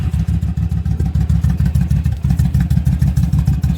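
Motorcycle with a custom exhaust and stock upper pipes fitted with a heat shield, idling steadily with a deep, loping pulse that stays loud and close throughout, no talking.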